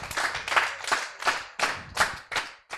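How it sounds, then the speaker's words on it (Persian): Audience clapping at a children's and teens' Mawlid celebration program: several short, rhythmic bursts of hand claps in quick succession, fairly close and lively, with no talk over them. "بسیار خوب تشویق کنین."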